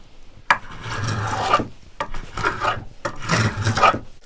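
A hand rasp scrapes across a wooden bass guitar body to flatten it, giving three long, close, gritty strokes, each about a second long, separated by short pauses.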